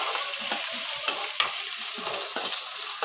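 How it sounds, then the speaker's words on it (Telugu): Curry leaves and green chillies sizzle steadily in hot oil for Nandyal-style ugani, with spoon scrapes and stirring bursts recurring every half second or so, close and clear with no voices. "కరివేపాకు, తర్వాత పచ్చిమిర్చి, బాగా వేగాలి."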